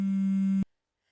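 A phone ringing tone, a single steady electronic beep lasting just over half a second and then cutting off into silence.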